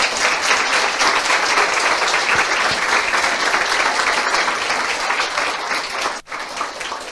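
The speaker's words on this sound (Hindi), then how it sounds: "आइए यीशु के लिए ताली बजाएंगे जोर से" A church congregation applauds loudly for Jesus, with dense, sustained clapping from many hands for about six seconds before it briefly dips and thins near the end.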